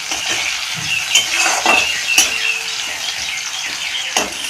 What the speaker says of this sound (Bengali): পেঁয়াজের সঙ্গে টমেটোটাও আমি ভেজে নেবো